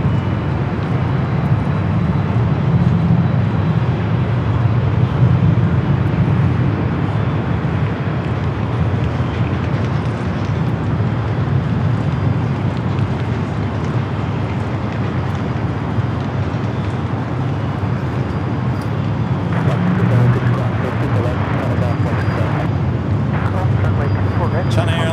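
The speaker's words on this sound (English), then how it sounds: "Another 777 flying above us here to LAX." A Boeing 777 airliner passes overhead on approach to LAX, its broad steady engine roar filling the whole stretch at close range and loud throughout, with no break or fade.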